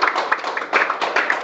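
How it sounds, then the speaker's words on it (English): A crowd at an electrical energy saving project event for a library applauds everyone involved. The short, steady clapping is fairly loud, with dense overlapping hand claps and slight swells. "let's give a big applause to everyone"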